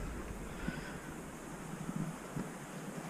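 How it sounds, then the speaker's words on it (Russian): Sea waves at the beach below Simeiz at sunset wash in as a faint, continuous rumble under wind noise on the microphone, with a few soft tones that may be birds chirping in the distance. "Слышно только, как птички чирикают и море."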